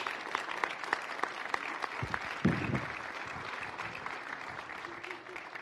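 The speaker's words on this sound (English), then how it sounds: "Now, raucous applause." Raucous applause from an audience at a community talk on suicide prevention, steady broadband clapping at moderate distance that swells briefly midway and holds throughout.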